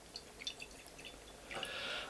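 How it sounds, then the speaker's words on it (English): Whisky poured from a bottle in a quiet room: a few faint drips at first, then a soft, steady stream of liquid filling a glass for the last half second. "I shall now pour and review this whisky"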